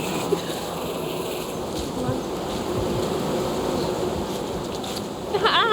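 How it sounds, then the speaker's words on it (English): A wasp buzzes steadily close to the listener's ear outdoors, a continuous insect drone lasting several seconds with faint background noise and a brief louder rise near the end. "I got a wasp near my ear, I just heard it buzzing."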